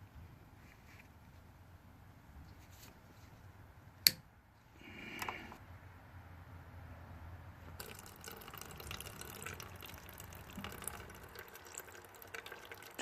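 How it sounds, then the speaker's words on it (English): Gas drains from a Yard Machines MTD 5.5 HP 24-inch snow blower, a steady trickle of liquid running out, with a sharp click partway through before the pour turns into a broader, steadier splash. "Just want to drain the gas."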